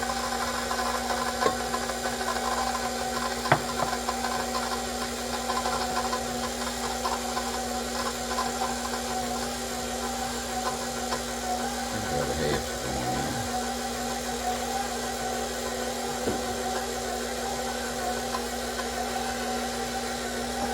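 Electric mixer beating sugar for a pineapple coconut cake batter, a steady close mechanical whir and rattle running throughout with a couple of faint knocks, no talk.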